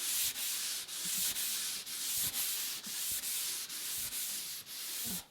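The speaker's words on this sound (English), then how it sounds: "we're just going to sand out the whole surface here." Hand sanding of Bondo body filler with 240 grit sandpaper on a flat surface, heard as steady, close, raspy back-and-forth strokes in an even rhythm of about two per second, with no talking.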